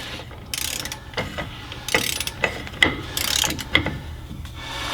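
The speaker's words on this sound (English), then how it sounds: "The next setting here is with a smaller torque wrench, set to 50 foot-pounds" A small torque wrench set to 50 foot-pounds ratchets on the rear wheel hub of a cabover Peterbilt truck, making a series of close, sharp clicking pulls in an uneven rhythm.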